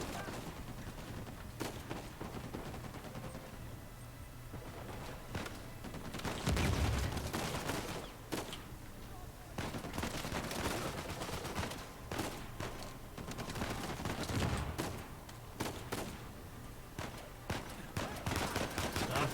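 Enemy turret gunfire in the video game Uncharted 4, repeated sharp shots and bursts scattered across the whole stretch, some heavy thuds among them, with a voice talking over the action.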